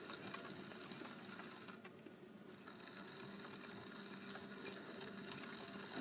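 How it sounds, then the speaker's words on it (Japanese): A clay teapot lid knob is trimmed on a spinning potter's wheel: a steady, close mechanical whir with fine scraping texture runs throughout, briefly dipping around the middle. "これはもう普通にねつまみの形に削り出していきます。"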